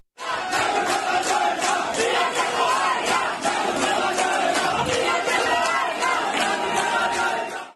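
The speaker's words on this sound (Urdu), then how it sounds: "یوتھ کوارڈینیٹرز نے مریم نواز اور حمزہ شہباز کے حق میں نعرے بھی لگائے" Youth coordinators at a party organizational meeting chant slogans in support of Maryam Nawaz and Hamza Shahbaz, a loud, dense crowd roar of shouted voices sustained without pause.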